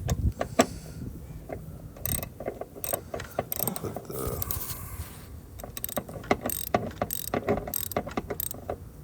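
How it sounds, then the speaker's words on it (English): Hand ratchet tightening a new spark plug in the 1MZ-FE V6 engine of a Toyota Camry: quick bursts of close, crisp clicking, repeated in short runs with brief pauses between strokes. "Got it on there with the ratchet."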